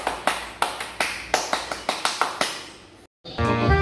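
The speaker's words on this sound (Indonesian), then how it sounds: "tepuk pramuka" Rhythmic Indonesian Pramuka scout clap pattern, about a dozen sharp close claps in a steady patterned beat with a short pause, ending in a brief pause before music begins.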